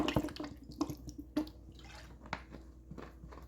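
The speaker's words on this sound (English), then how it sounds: "So to our Worcestershire sauce, we're going to add some lemon juice." Lemon juice splashing into Worcestershire sauce in a home kitchen during dinner prep for smothered chicken drumsticks, a few quick wet drips and splashes, close and quiet, with no talking.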